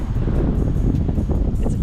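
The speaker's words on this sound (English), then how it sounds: "It's very windy." Strong wind buffets a microphone beside a river, a loud, continuous low rumbling roar with no pauses and no voices.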